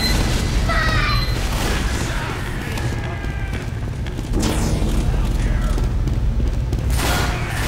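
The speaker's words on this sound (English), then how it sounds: "More explosions." Booming explosions from the Team Fortress 2 mod Pony Fortress 2 roll on continuously, loud and dense, with bursts and crackling game effects layered over a heavy low rumble.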